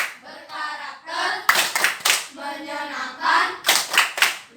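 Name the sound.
rhythmic group clapping chant in a classroom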